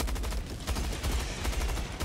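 Heavy support weapon fire in the Helldivers 2 game, loud dense bursts of shots with strong low boom, continuous rapid reports throughout.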